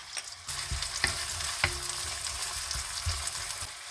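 Red onion hits hot extra virgin olive oil in a veal stir-fry, setting off a continuous crackling sizzle punctuated by several sharp spatula clacks and scraping stirs against the pan.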